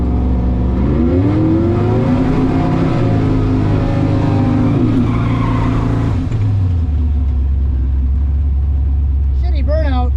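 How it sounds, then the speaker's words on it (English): Car on a drag strip track day doing a burnout, the engine revving hard with rising and falling pitch and a rough sustained roar, loud and close, then dropping to a lower drone near the end. "Shitty burnout."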